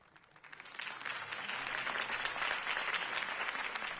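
A crowd in a Batman: The Telltale Series campaign rally scene bursts into applause. The clapping swells after a quiet start and then holds as a steady, dense roar of many hands.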